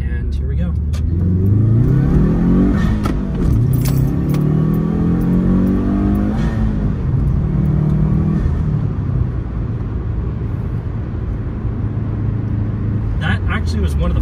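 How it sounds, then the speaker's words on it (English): Turbocharged Subaru WRX pulling hard at wide open throttle up an on-ramp, engine note rising steadily through a long gear, dipping at a shift, then climbing again, loud and close from inside the cabin with a voice talking over it. "I'm gonna turn on to this on-ramp here and see if I can do a bit of a wide open throttle acceleration run"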